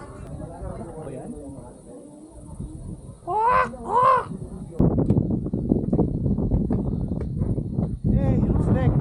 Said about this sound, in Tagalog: Ay no, may uwak.